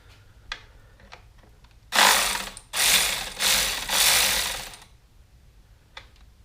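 A ratchet loosening a Jeep throttle body bolt, with a few faint clicks and then four loud, fast ratcheting bursts in a row, close up.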